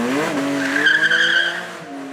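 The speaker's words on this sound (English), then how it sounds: "Getting the tail to wag on the Porsche, not easily done because they do love to grip and go." Porsche twin-turbo flat-six sports car sliding with its tail wagging at the Beaulieu Supercar Weekend, engine roaring steadily while tires squeal in a loud, sustained screech that rises mid-slide and then fades.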